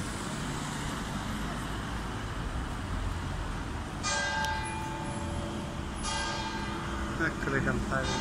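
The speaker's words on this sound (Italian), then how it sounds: "Ecco le campane, finita la messa." Church bells of Santa Maria Maggiore ring after mass, two clear bright strikes ringing out over a steady wash of nearby road traffic.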